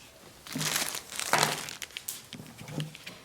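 Plastic bags and fabric scraps crinkle and rustle in close, irregular bursts while being handled during packing for a Disney World trip, with no voices.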